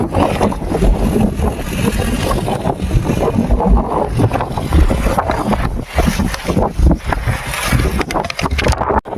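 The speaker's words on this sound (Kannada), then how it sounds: "ಮಸ್ತ್ ಇದೆ ಗಾಳಿಪಟ. ಸೌಂಡ್ ಬರೋತರ ಬರುತ್ತೆ." A kite flaps and rumbles in strong wind on a hilltop, a steady, loud, buffeting flutter with heavy wind noise on the microphone throughout.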